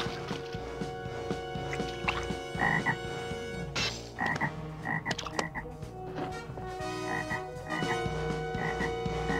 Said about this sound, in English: He's called down a plague of frogs.